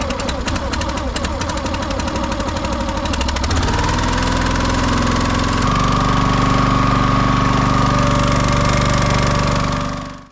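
Small gasoline engine on a vertical log splitter starts with rapid knocking putters, then settles into a steady, loud, close running drone at about half throttle, continuing unbroken until it cuts off at the end.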